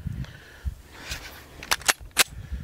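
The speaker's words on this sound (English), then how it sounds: "we'll do a little shooting here and see if I can compare the M&P 45 with the Glock 41" A Glock 41 pistol fired at steel targets outdoors gives three sharp distant-sounding cracks in quick succession after quieter handling noises.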